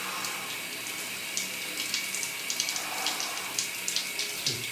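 Cold shower water running and splashing onto a person's body, a steady close hiss of spray with small irregular splatters, alone without speech.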